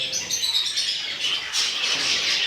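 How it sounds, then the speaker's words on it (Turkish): A canary sings steadily in a home aviary alongside budgerigars, a continuous bright, high-pitched warble of rapid trills and chirps, close and fairly loud, with no talk. "ötüşlerine devam ediyor arkadaşlar. Güzel bir kanarya."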